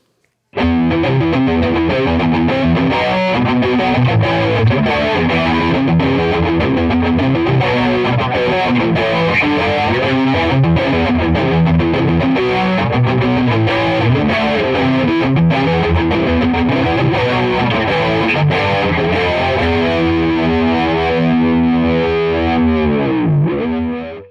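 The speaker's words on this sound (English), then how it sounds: "it takes that feedback and flips it out of phase, giving you a more sort of hollow sound" Heavily distorted electric guitar chords run continuously through a PastFx 80/A flanger with out-of-phase feedback, giving a hollow, phasey swirl, with a sweeping whoosh near the end.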